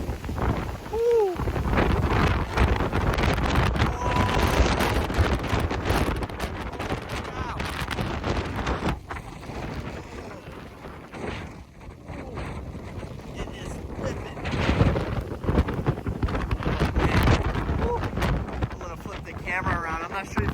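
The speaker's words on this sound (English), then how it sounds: "I'm not sure if you can hear me with all this wind noise." Hurricane-force wind from Hurricane Ian in Cape Coral, Florida, roaring and buffeting against the microphone in a continuous loud rumble that barely lets up, with gusts swelling and fading throughout.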